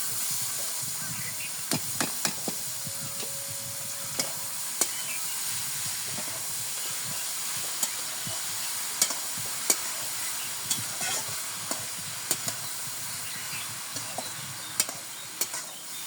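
Baghar, whole spices tempering in hot oil, sizzles and hisses steadily in a pan while a utensil stirs, giving sharp scattered clinks against the metal throughout.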